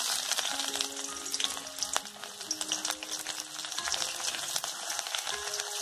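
Chopped onion sizzles steadily in hot oil with cinnamon and cardamom, a dense, loud crackling hiss that holds throughout with light stirring scrapes and no talk.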